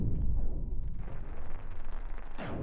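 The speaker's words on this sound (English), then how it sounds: "let's continue firing at the reactor" Spaceship weapons fire repeatedly at an enemy reactor in the space game Cosmoteer, giving low, rumbling explosive booms that roll into one another at close range, with a brighter burst near the end.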